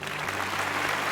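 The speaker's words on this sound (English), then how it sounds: "We'll edited applause so it sounds more interesting than it is." A short stretch of thick, even audience clapping following cast and crew introductions at a sold-out Frozen stage production, with a low hum beneath it.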